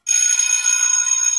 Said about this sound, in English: Shit, the bell.